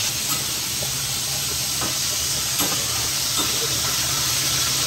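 Tilapia frying in hot oil in a pan, a loud, continuous broadband sizzle with small intermittent pops and crackles, steady throughout with no talk.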